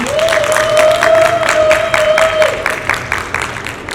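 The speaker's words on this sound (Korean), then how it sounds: "큰 박수로 환영 부탁드리겠습니다." Applause from a conference crowd at NFT Asia 2022, dense steady clapping filling the room with a few cheers, holding strong throughout, with a sustained tone ringing under the first half.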